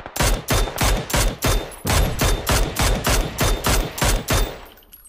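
Rapid bursts of automatic gunfire in a shooter video game, a steady rhythm of about a dozen loud, closely spaced shots that fade at the end.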